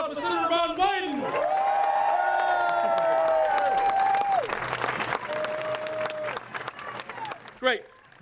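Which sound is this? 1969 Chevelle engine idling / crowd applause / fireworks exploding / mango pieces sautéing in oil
crowd applause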